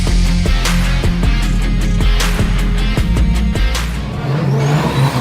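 Drift cars at a drifting event near Ulaanbaatar rev their engines hard in loud repeated bursts, with rising and falling whines and tire squeal, close and dominant and with no talk.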